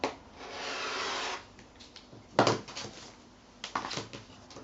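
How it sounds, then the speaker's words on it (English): Two stacked fabric squares cut diagonally in half, a close, soft scraping swish lasting about a second followed by scattered rustles and light taps of handling, faint and without talk. "So I'm just going to cut them in half diagonally."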